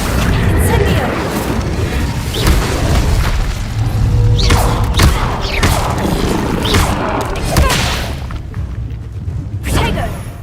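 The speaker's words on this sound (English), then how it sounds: "Levioso! Accio! Incendio!" Spell casting in the Hogwarts Legacy video game brings dense booms, crashes and whooshing magical impacts that overlap continuously. A voice calls out incantations over the loud, layered effects.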